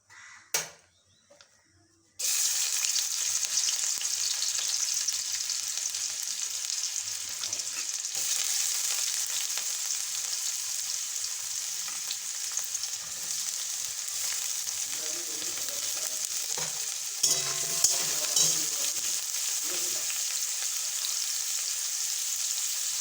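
After a few quiet seconds, chopped onion hits hot mustard oil in a wok and sizzles loudly and continuously, with occasional stirring clatter and a crow cawing faintly in the background.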